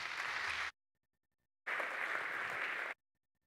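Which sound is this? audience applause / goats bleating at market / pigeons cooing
audience applause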